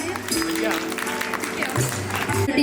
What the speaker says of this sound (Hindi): आप सभी कृपया तालियां बजाते रहें।